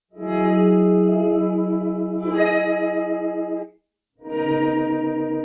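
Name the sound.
guitar reverb with drift modulation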